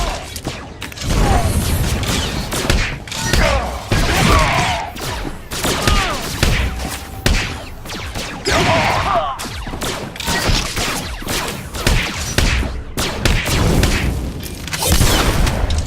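Sustained blaster gunfire in Star Wars: The Old Republic, a smuggler firefight: dense rapid bursts and booms throughout, loud and continuous, with occasional voices under the shooting.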